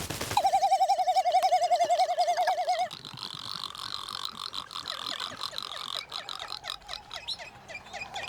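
Seabird calls from a Galapagos salt marsh on Genovesa, where frigate birds and herons gather: a steady warbling, wavering call for the first few seconds, then a busier mix of chattering, repeated chirps from several birds at close range.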